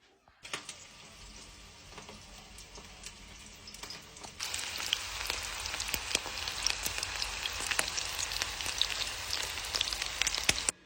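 Meatballs of minced meat sizzle steadily in a pan with crackling pops, the frying growing noticeably louder partway through.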